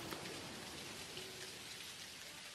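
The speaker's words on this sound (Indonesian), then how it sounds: "Ini hujan kayaknya guys." Steady rain falls in the farming game Dinkum, a dense, even hiss of drops hitting surfaces with no pauses or other sounds.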